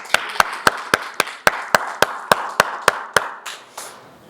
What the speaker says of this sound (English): a round of applause, because that was amazing